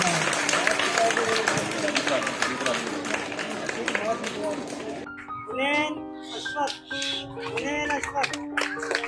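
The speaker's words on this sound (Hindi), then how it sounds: "तालियां बजाओ।" Children and adults clap for a student awarded first position at a school event, a loud burst of rapid, dense clapping lasting several seconds before it stops and a voice begins speaking.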